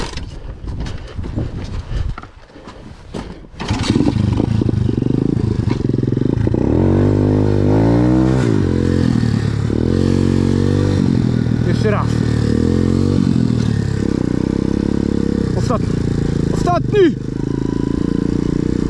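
A Kubica-made motocross bike engine revs hard and loud up close, with repeated rising and falling throttle sweeps and mechanical clatter after a rough start, and voices heard briefly under it.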